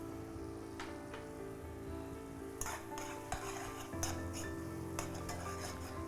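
Rasam powder, tomato, green chilli and garlic sautéing in oil, a faint continuous crackling sizzle with a few spoon clinks and stirring scrapes, quiet and close, no voices.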